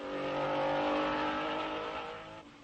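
A 1961 Porsche Formula 1 car races at the Belgian Grand Prix at Spa. Its engine makes a strong, buzzy, harmonic howl that swells as it comes near and then fades away as it passes.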